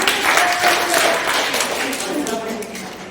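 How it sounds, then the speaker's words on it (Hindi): A crowd at a women domestic workers' union election meeting claps steadily for about three seconds, a dense wash of hand claps that tapers slightly toward the end. "जोरदार ताली बजा दे एक बार, है ना।"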